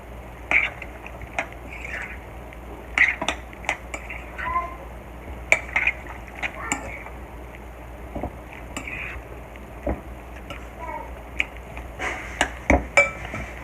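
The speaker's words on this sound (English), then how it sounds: "I'm going to take my egg and drop it in there. Give it another mix." A spoon clinks and scrapes against a bowl while crab stuffing is stirred together with an egg, with irregular clattering taps spread throughout and quiet stretches between, close and fairly soft.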